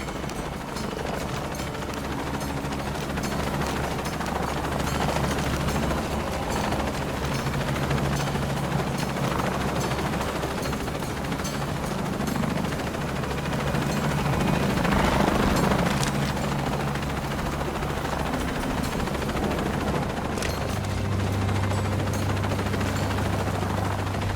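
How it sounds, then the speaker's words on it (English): Helicopter in the video game Shadow of the Tomb Raider, a steady droning rotor and engine roar held throughout, with bursts that may be gunfire mixed in and swelling near the middle. "I'm in a chopper."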